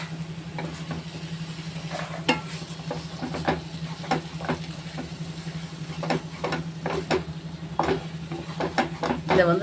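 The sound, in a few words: stirring and frying papaya flower egg stir-fry in a pan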